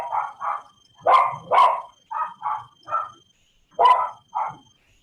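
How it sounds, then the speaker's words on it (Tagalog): A dog barks about nine times in close, loud bursts, some single and some doubled, with short quiet gaps between them and no talking. "Maingay ang aso."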